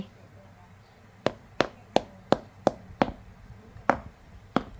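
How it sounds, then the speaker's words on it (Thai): A ripe Phuang Manee durian is knocked on to test its sound, giving eight sharp, close taps at a fairly even pace, each one hollow and brief, over a faint background. "ลองเคาะดูเสียงมันดังยังไง"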